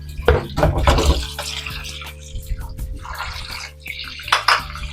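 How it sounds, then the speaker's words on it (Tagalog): Tap water runs and splashes into a bowl of frozen fish being separated for a coconut-milk fish paksiw, a steady broadband gush with uneven splashing surges, close and fairly loud throughout. "Lagyan muna natin ng tubig guys para maghiwalay-hiwalay siya. Frozen kasi masyado na eh."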